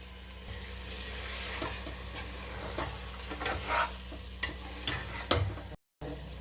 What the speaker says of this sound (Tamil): ஸோ நல்லா மசாலா வந்து சிக்கனில் படுற அளவுக்கு நல்லா பரட்டி விடுங்க ஒரு 5 நிமிஷம்.